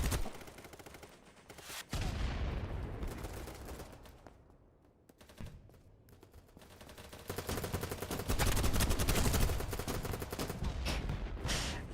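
Bursts of bipod-mounted machine gun fire in a first-person shooter, loud and dense, with a quieter lull midway before the rapid firing resumes, and battle noise around it.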